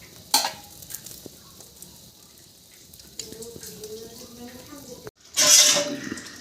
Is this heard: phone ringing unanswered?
no